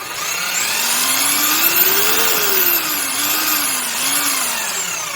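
A Bosch JS470E jigsaw runs continuously without load, its motor whine close and loud, the pitch rising and falling as the variable speed trigger is squeezed and eased.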